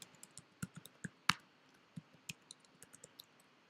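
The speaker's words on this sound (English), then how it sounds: "Now we need to type your password." Soft, irregular clicks of keys being typed on a Mac keyboard, quiet and close, with one sharper tap near the middle and no talking.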